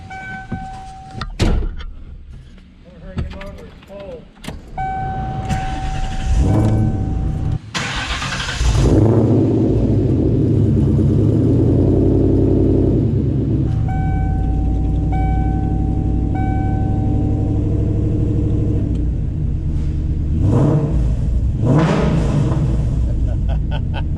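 Car engine fitted with new Kooks headers and exhaust, starting up with a door shutting and chimes before a steady, loud idle rumble that swells in a few revs.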